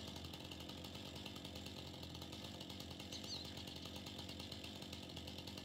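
A chainsaw runs steadily near a tree in Farming Simulator 19, a continuous buzzing drone at close range that holds an even level throughout with no talking over it.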